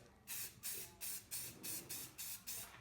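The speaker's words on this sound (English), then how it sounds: "And we'll go ahead and start spraying." Spray paint hisses onto a lantern fount in about eight short, evenly spaced bursts, each a loud airy rush with brief gaps between.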